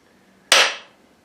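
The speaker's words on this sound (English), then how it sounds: "I bring the handle up, and at the same time I hit down with my hammer" A single sharp hammer strike rings out close by as an axe head is driven down to seat on its wooden handle, followed by a brief decaying ring in otherwise quiet surroundings.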